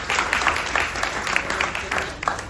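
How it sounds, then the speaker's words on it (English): Audience applause for Chef Babette, steady clapping from a moderate crowd with individual claps audible, continuous at a mid level throughout. "Let's continue that round of applause for Chef Babette"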